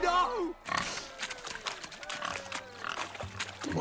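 Pigs grunting in The Witcher 3: Wild Hunt, a few short rough snorts and oinks up close, followed by scattered rustling and movement noise.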